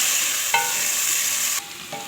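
Onions frying in hot ghee in a pan, a steady close sizzle with a couple of brief stirring scrapes, no voices over it.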